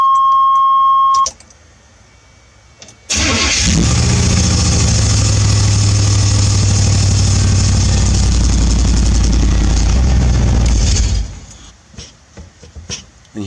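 A Chevy S-10 pickup fitted with a V8 cranks and fires up after a chime, then runs loud and steady close by for about eight seconds before shutting off, with clicks and rattles afterward.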